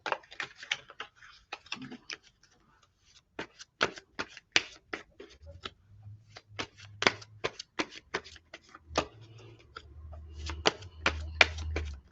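A tarot deck being shuffled up close, a long run of crisp, rapid card clicks and flicks in an uneven rhythm against a quiet background with a faint low hum.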